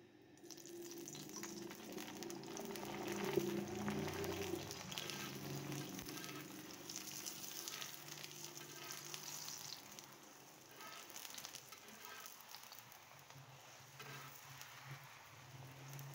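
Desi ghee sizzles under a cauliflower paratha on a hot griddle, a steady faint hiss of frying that carries on evenly with no talking.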